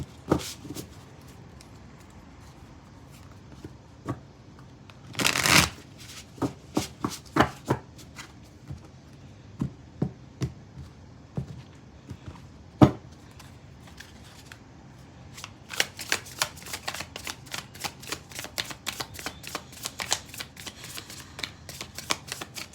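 Tarot cards being shuffled by hand, with bursts of crisp riffling and slapping, a loud flurry early, then scattered taps and a dense run of card flicks near the end.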